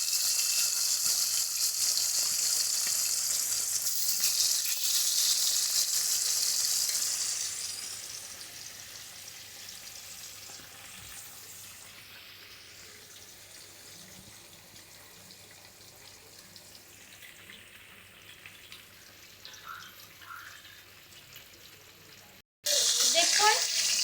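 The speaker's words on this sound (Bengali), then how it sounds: "মাছ ভাজা হয়ে গেছে, এক পিঠ উল্টে দিয়েছি।" Big pieces of katla fish fry crisp in hot oil, one side already turned, giving a steady sizzling hiss that is loud at first, settles softer, then flares into a sudden loud burst at the end.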